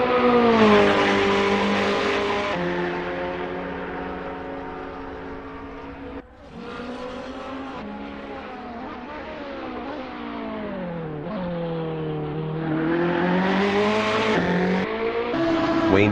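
A Ferrari 488 GT3 race car in a racing game screams through its gears, a loud continuous engine note rising and falling with upshifts and brief lifts, close and alone without talk.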